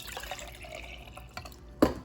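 Filtered water is poured into a cup, a brief liquid splash and dribble ending in a sharp close drip near the end, quiet against faint background noise.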